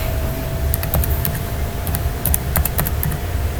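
Light keystrokes on a computer keyboard in Windows, sparse taps in small clusters over a constant low background hum, fairly faint and without speech.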